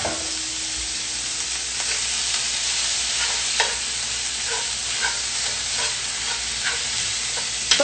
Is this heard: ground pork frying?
yes